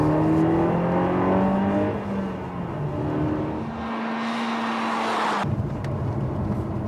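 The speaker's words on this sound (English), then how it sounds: "offering an engine noise on par with today's best sports cars" A Peugeot RCZ sports car engine revs and accelerates loudly and continuously, with rising harmonic tones and a brief dip before surging again.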